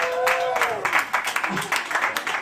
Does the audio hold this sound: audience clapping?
yes